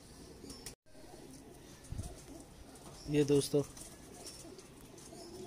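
Breeder pigeon coos in a short burst of several notes midway through, close and moderately loud over a low background hum, with someone speaking briefly.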